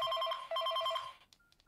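A Nokia N70 mobile phone ringtone plays a quick repeating electronic trill in two bursts, then cuts off into faint beeps.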